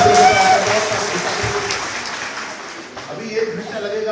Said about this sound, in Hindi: इतनी जल्दी ताली मत बजाइए